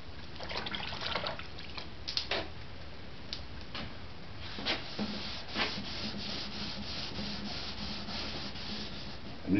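Hand sanding on a wooden model SR-71 aircraft, worked down to bare wood: close, steady rubbing strokes in an irregular rhythm, with a few sharper scrapes along the way.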